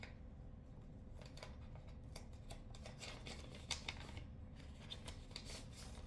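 A sticker-sealed paper note is peeled open by hand, quiet crinkling and soft rustles of paper with a few sharper tearing ticks over low background hum.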